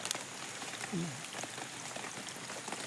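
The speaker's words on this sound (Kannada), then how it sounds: "ಮಳೆ ತುಂಬಾ ಬರ್ತಾ ಉಂಟು" Steady patter of rain across the whole stretch, a soft broadband hiss with scattered drop ticks and a brief low voice-like murmur partway through.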